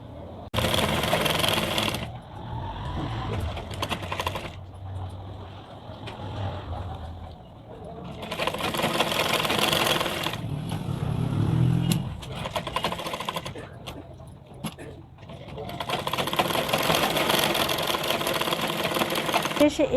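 A sewing machine stitches lace onto the cuff of a full-length blouse sleeve in several loud, close runs of rapid mechanical whirring separated by pauses, with someone talking in between.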